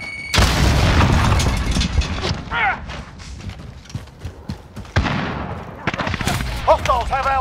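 A grenade explodes in a hardcore Call of Duty match, a loud close boom with a sharp onset, then another heavy blast a few seconds later, amid gunfire and rumble, with voices shouting over it.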